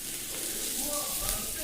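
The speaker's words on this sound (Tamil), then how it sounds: "ஸோ வெங்காயத்தை நல்லா வதக்கிக்குவோம்." Onions sautéing in a pan for chutney, a soft continuous frying hiss heard close, with a low voice speaking faintly over it.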